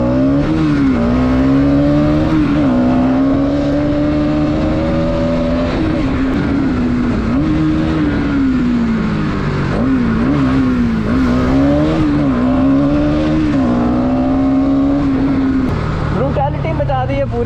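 A motorcycle ridden through traffic, its engine drone close and loud, pitch rising and falling continuously as the rider throttles on and off.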